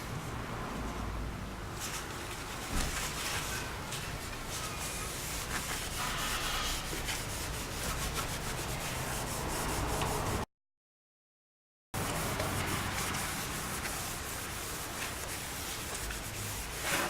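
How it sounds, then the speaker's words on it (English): A cloth wipes a Yamaha YZF R6 motorcycle wheel dry, a continuous close rubbing and swishing that runs steadily with a brief silent gap partway through. "And then just wipe those contaminants off there until the wheel is dry again."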